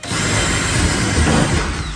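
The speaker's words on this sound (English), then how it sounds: "and I'm drilling up from the bottom" A power drill grinds steadily and loudly up through plywood on a Crest pontoon boat at close range, a continuous whirring rasp lasting the whole moment.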